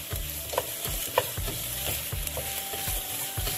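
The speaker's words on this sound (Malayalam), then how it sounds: "നന്നായിട്ട് സോട്ടായിക്കൊണ്ടിരിക്കുകയാണ്." Ingredients for cream of chicken soup sauté and sizzle in a pan, with steady close stirring strokes repeating about every half second over a continuous frying hiss.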